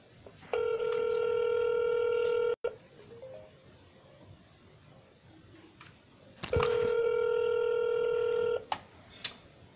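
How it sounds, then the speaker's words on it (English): A Red X Storm telephone auto-dialer sends two long, loud bursts of steady multi-tone dialing sound, each lasting about two seconds, separated by quiet gaps with brief clicks. "Let me go ahead and start the dialer"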